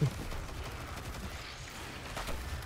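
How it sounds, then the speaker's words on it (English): Fireworks go off in Destiny 2 during the Crota's End raid, a steady crackling, popping barrage of rapid bursts that continues through the whole moment at moderate loudness. "Whoa, fireworks!"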